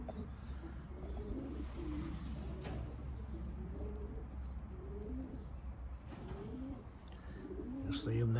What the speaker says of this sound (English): They only race a small team of pigeons